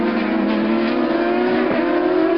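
A Nissan World Series race car at Zolder in 2004 screams past at high revs, its engine a loud, steady buzzing drone with a slight pitch shift as it passes, continuous throughout with no voices.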